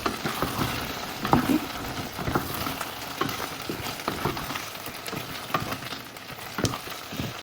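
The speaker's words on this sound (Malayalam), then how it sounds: "ഇനി അത് കുറച്ചത് ഇട്ടതിന് ശേഷം നമുക്ക് അതിൻ്റെ അകത്തോട്ട് ഒന്ന് നല്ലോണം മിക്സ് ചെയ്ത് കൊടുക്കാം." Chicken and fried onions are stirred in a pot for a simple biryani, giving a steady background sizzle broken by a run of scraping, clacking spoon strokes in an irregular rhythm, close and moderately loud, with no voices.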